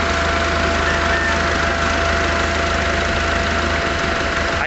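2004 Hyundai Santa Fe engine idling roughly with the number 4 injector unplugged, a loud, close, steady mechanical rumble with uneven knocking vibration throughout and no talking.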